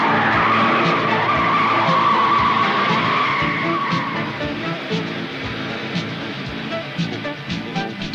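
A speeding car's tires skid and squeal loudly at first, then the noise eases into a rougher, quieter roar of the car driving on.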